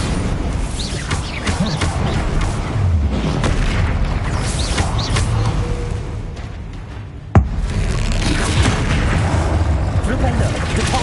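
The Bombarda explosion spell goes off in Hogwarts Legacy, a single sharp blast cutting through a dense, loud wash of game sound and combat noise, with a voice heard amid the din.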